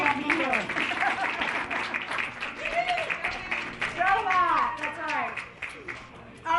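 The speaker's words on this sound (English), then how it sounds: "let's give a round of applause to my poor husband that can't be here" Applause from a launch party audience, a dense broadband clatter lasting several seconds, with children's voices and chatter running over it.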